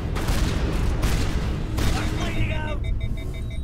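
Gunfire bursts in the Mass Effect video game, with booming shots and a steady crackling barrage under excited voices talking over the fight.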